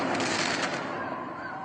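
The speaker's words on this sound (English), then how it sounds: "Now, fireworks apparently in Iran." Fireworks in Iran give off a dense stream of distant pops and crackles that blend into a rushing wash, gradually thinning out.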